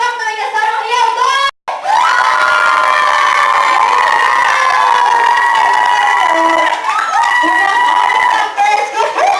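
A crowd of children and adults at a first birthday party opening cheers, shouts and whoops loudly and continuously, with a brief pause near the start before the noise surges again.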